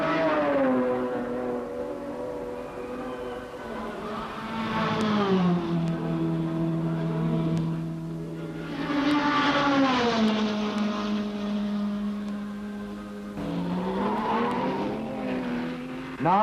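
Period racing cars at the Le Mans 24-hour race, among them an Alfa and a 5.5-litre Iso Rivolta with a Belgian Ferrari closing, roar past in loud engine waves that rise and fall as they pass by and fade.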